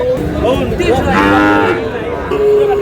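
A Sahiwal bull at a busy livestock market gives a loud, drawn-out moo at close range, with crowd chatter and talk in the background.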